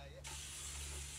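A sudden burst of sizzling hiss starts and holds steady, like food frying in a hot pan, fairly faint with a low hum underneath.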